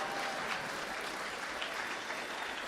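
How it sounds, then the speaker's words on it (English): A comedy club audience claps in a steady, dense wash of applause, fairly distant and soft, with no voices standing out above it. "Y'all should be clapping"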